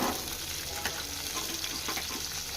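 Garlic and curry leaves crackle in hot oil as a tempering for Andhra-style cucumber dal, a loud, continuous close-up sizzle with no one speaking.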